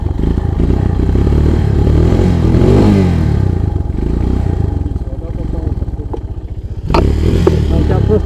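Motorcycle engine, either a Voskhod 3M-01 or an Irbis TTR250, stuck on rough off-road ground, runs loud and close with throaty revs that rise and fall, plus clattering and a sharp knock near the end, and people talk over it.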